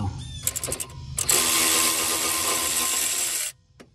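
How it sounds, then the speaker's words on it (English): An electric ratchet whirs continuously for about two seconds as it spins a bolt out of a control arm on a 2004 Chevy Malibu, preceded by a few short clicks and bursts, then stops abruptly. "get on it with the electric ratchet and you can get it to spin off without it getting jammed"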